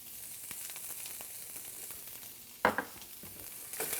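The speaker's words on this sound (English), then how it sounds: "I've browned some hamburger and onion, and I drained off some of the fat, and I'm heating it up." Browned hamburger and onion reheating in a pan with some fat drained off, a quiet steady sizzle with soft crackles and a sharper clatter of a utensil midway, close and low in level.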